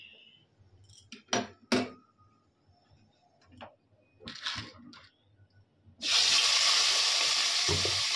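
Two pieces of tilapia fish go into hot oil in a wok, starting a sudden loud, continuous sizzle after a few quiet kitchen clinks and knocks.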